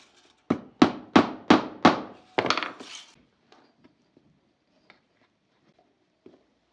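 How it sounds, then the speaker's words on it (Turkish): Five sharp, evenly spaced hammer strikes on a nail in a wooden board, then a shorter rattling knock, followed by near silence with faint small taps. "Şuraya bir çivi çakacağım."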